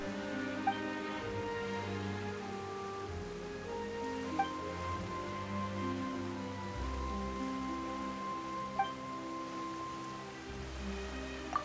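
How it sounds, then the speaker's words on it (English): Rain falls in a video game scene as steady soft patter under sustained background music, with a few faint droplet ticks and no voices. "Why is it raining all of a sudden?"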